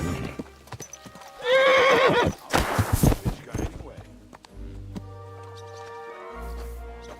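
A horse in Kingdom Come: Deliverance II lets out a loud, close whinny, followed by a short flurry of hoof clops and thuds. A low humming drone rises quietly beneath it near the end.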